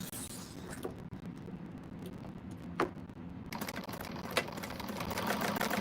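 A sewing machine stitching across both ends of a quilted bag, a continuous whirring drone with a few brief clicks, and the motor running louder and busier toward the end.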